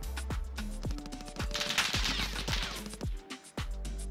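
Gunfire in a multiplayer shooter video game: a rapid run of sharp, punchy shots with bright crackling impacts, fairly distant and moderately quiet, firing in an uneven rhythm for about four seconds, with no talk.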